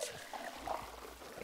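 In the video game It Takes Two, water pours onto a plant in a short, soft trickling splash, faint and close, with a bit of low rumble beneath.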